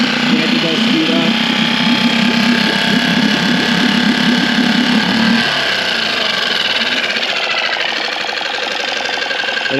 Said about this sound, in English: But if I increase it a little bit, the engine does speed up.